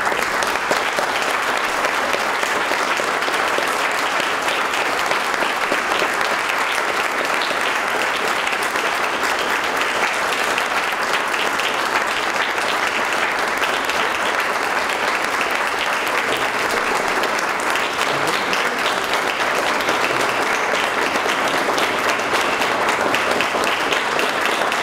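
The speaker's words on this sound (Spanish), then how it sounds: "Un aplauso para él." An audience at a book presentation breaks into sustained applause, many hands clapping in a dense, even roar that holds steady for the whole stretch.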